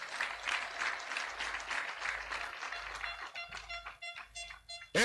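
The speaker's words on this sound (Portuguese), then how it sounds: "Uma grande salva de palmas para todos." A crowd at a Mozambican national gathering breaks into sustained applause, dense clapping at moderate distance that swells and then thins into scattered individual claps.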